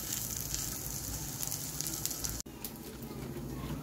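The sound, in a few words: chapati toasting in butter on a pan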